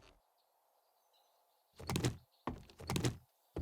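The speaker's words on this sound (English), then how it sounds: "We'll shut that door." A door being shut in the survival video game 7 Days to Die, heard as two close, loud bursts of mechanical sliding and banging in quick succession over a faint ambient hum.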